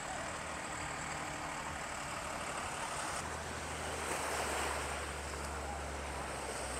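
Surf rolls steadily onto Bavaro beach as a continuous, fairly distant wash of breaking waves mixed with wind noise, with no talking.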